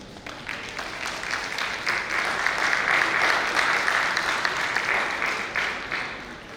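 Sustained applause from a crowd, steady clapping filling the space at moderate loudness with no talking over it.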